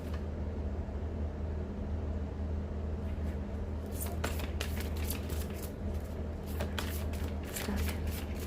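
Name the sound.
shuffling tarot cards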